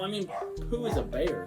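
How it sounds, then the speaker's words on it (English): A small puppy yaps and yips in the background in short quick bursts while people talk over it in the foreground. "I want to apologize if you can hear my dog barking in the background."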